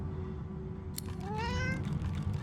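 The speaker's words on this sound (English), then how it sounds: "The cat begins to purr and rub itself on your ankles." A cat in Divinity: Original Sin 2 lets out a single rising meow about halfway through, close and clear, over a steady low purr-like rumble that continues throughout.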